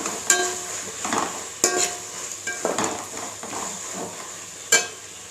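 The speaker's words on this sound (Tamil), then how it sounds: "புதினா, மல்லி வதங்கிருச்சு." Mint and coriander leaves sautéing in a pan for mushroom biryani, a soft sizzle with several sharp spatula scrapes and clinks against the metal at irregular intervals, close and alone.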